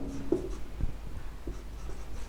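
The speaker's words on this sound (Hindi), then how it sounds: "यहाँ पर लिखेंगे" Marker or chalk writing on a classroom board during a math lecture, a faint series of short scratchy strokes and taps in a quiet room with no talking.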